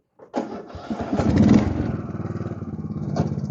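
A small engine starts with a short crank and catches, then settles into a steady, rhythmic idle with regular pulses, fairly close and moderately loud, with no voices.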